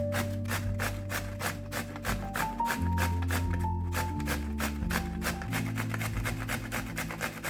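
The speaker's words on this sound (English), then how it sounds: "Grate the cucumber." Cucumber rubbed against a grater in rapid, steady rasping strokes, each scrape short and close, with music playing underneath throughout.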